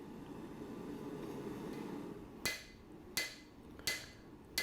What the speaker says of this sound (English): I was back in the forge and then drew out the tang so I could get the right length